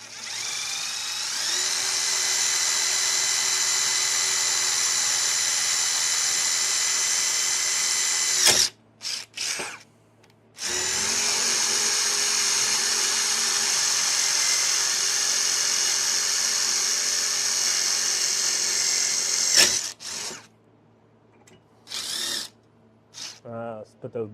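A power drill bores bolt holes during a build, whining loudly and steadily up close in two long runs separated by short pauses, with brief clicks and a few spoken words between bursts.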